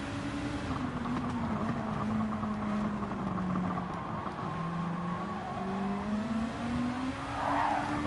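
Race car tires squealing under oversteer on the Daytona road course in a racing game, a long wavering howl sliding up and down over a steady engine drone, loud and continuous.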